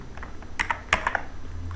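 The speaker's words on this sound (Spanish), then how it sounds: "presionamos ALT y las teclas 3 y 9 al 39" Several computer keyboard keys are pressed in quick succession, soft close clicks clustered in a short burst over a faint steady background hum.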